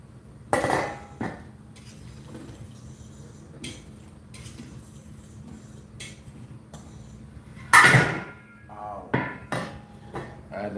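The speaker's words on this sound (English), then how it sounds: "Give it a stir." A spoon stirs Jamaican oxtail with coconut milk in a cooking pot, giving scattered metallic knocks and scrapes against the pot, with a louder clatter near the end and a quiet kitchen hum underneath.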